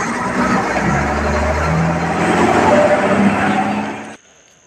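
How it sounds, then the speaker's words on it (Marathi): A state transport bus running between Dapoli and Kolthare drives off, its engine rumbling close and loud for about four seconds before cutting away to quiet. "चला मग गाडी गेली आहे, बाय आमची गेली स्कूलला."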